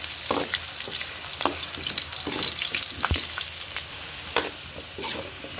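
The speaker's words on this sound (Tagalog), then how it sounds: "Antayin lang natin siyang maprito" Steady crackling sizzle of potatoes frying in hot oil for rabbit kaldereta, with occasional sharper pops and a few faint clinks, no voices.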